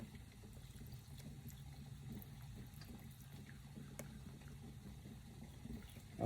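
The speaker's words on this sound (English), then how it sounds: "So let's pour a little bit of water in." Water runs steadily into a blender while preparing sea moss, a soft continuous trickling wash with a low rumble underneath, close by and moderately quiet with no voices.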